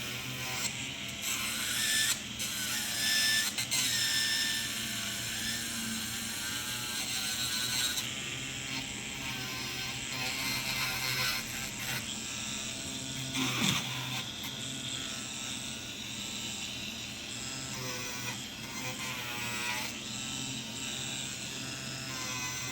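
A small rotary dental tool finishes an acrylic resin denture molar, giving a continuous high whine that shifts in pitch and grinds in short bursts as it contacts the resin, close and fairly quiet.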